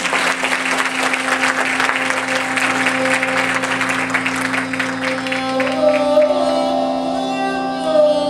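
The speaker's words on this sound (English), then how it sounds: "Big round of applause." Steady, dense applause from a concert audience at a Kathak dance performance, continuous and loud for several seconds, with a sustained instrumental drone tone running underneath.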